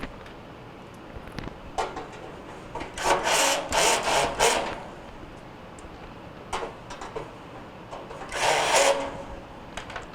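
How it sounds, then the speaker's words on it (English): Two screws are driven back into a Kenmore dryer panel during a repair for a dryer that does not heat, giving bursts of whirring screwdriver buzz with short gaps, handling clicks and rubs in between, close and moderately loud. "Going to reconnect your 2 screws."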